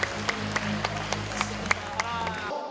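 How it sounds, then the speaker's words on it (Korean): A crowd at an outdoor sports festival for people with disabilities in Daegu claps over a steady low electrical hum, with individual sharp claps rising above a thin spread of applause before it cuts off abruptly. "여러분 큰 박수 한번 부탁을 드리겠습니다"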